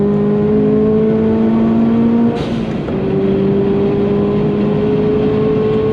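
A Subaru's engine drones loud and close at a super car track day, holding a steady, buzzing pitch that dips briefly midway and then settles again. No one talks over it.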